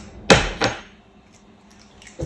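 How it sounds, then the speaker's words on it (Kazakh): An egg cracked for homemade cheesy ramen: two sharp taps against a hard edge in quick succession, then quiet, with a faint click at the end. "Бір жұмыртқаны жарамыз."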